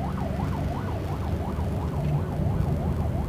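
An ambulance siren wails in a rising and falling pattern amid Jakarta road traffic, heard from a passing car over a steady engine and road rumble, moderately close and continuous, no talking.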